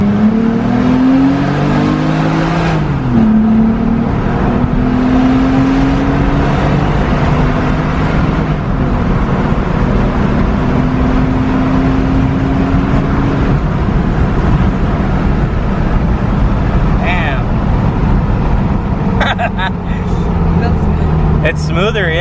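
A 2016+ Toyota Tacoma fitted with an Injen Evolution cold air intake and dry air filter accelerates. A loud, sustained engine drone climbs in pitch early, then holds steady and close for a long run.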